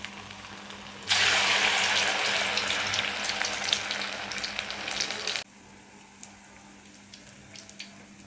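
Bonda frying in hot oil gives a loud, steady sizzle that starts abruptly and holds for about four seconds, then drops to a softer, fainter bubbling.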